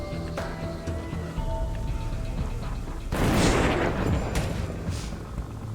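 Rifle gunfire in the video game Dead Age 2: a loud burst of shots and boom lands about three seconds in, over a steady background of game music and ambience.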